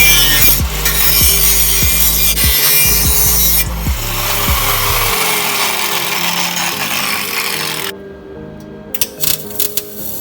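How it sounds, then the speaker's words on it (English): Power tool cutting a slit in a Subaru exhaust pipe, a harsh abrasive grinding with rhythmic bursts at first, then a steady rasping cut that falls away, followed by faint clinks. "I'm gonna cut a slit like from here to here so I can, you know, just close that up"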